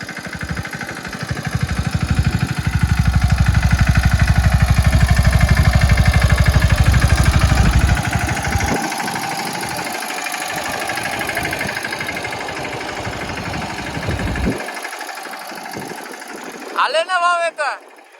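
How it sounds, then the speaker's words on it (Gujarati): A tractor engine knocks and chugs loudly while sowing on a farm field, then eases to a quieter running hum and falls away near the end, with voices talking over it. "આપણું ટ્રેક્ટર હે ને કાકાને વાડીએ હાલે છે બરોબર"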